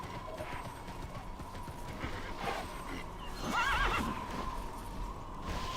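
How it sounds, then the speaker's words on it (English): Horse in the video game Tera crossing a lake, with steady hoof clip-clops throughout and a loud whinny midway, moderately close over an ambient game background. "I kind of look to the right and see you skimming across the lake on your horse."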